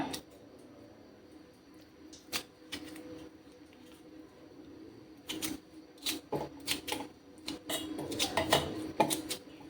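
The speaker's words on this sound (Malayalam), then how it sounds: "ഇത് നമുക്ക് ചെറിയ പീസുകളായിട്ട് ഈ മിക്സിയുടെ ജാറിലേക്ക് കട്ട് ചെയ്തിടാം" Sharp knife taps against a hard surface while cutting a potato into small pieces, scattered at first then quickening into a run of chops, close and fairly quiet, with no speech.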